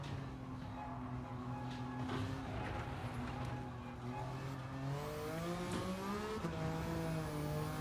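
A race car engine with a mid-RPM turbocharger drones steadily at high volume in Gran Turismo 7, its pitch climbing through gear changes with a turbo whine, close and continuous with no talking.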